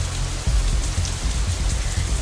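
Rain falls as a light drizzle in the Katawa Shoujo video game, a close, steady patter of drops hitting a surface with soft, irregular low thumps and no voices.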